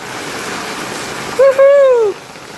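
Rainwater pours in a steady, rushing stream into a collection tank, with a short high squeaky tone rising over it near the end.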